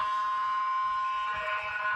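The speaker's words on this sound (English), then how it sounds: "Siren sounds to get this third quarter underway." An air-horn-style siren sounds to start the third quarter of an NTFL men's Premier League Australian rules football match between St Mary's and Palmerston Magpies. It is a steady, sustained tone held over the hum of the crowd.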